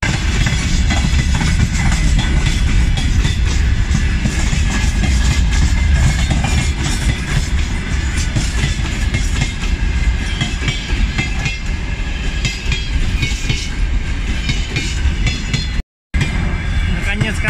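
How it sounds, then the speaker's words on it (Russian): A train rolls slowly past a forest post near Bryansk, making a loud, steady rumble with continuous wheel clatter up close. The sound lasts the whole time, broken only by one brief cut near the end. "Поезд, ребят, он еще очень медленно едет."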